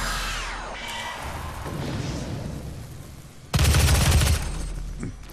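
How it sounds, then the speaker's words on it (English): Assault rifle gunfire in the video game DOOM (2016): a loud, sharp burst of automatic shots roughly a second long, set among quieter game effects and ambience. "It seems that this assault rifle does the job on them pretty well."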